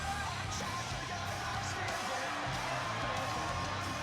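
A wrestling event crowd roars steadily, with yells and whoops rising out of a dense, continuous wall of cheering that never drops.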